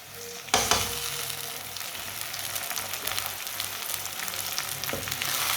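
Finely chopped tomato and green chillies cooking in a pan, a steady crackling sizzle nearby after a sharp clatter as they go in, with a few light stirring knocks.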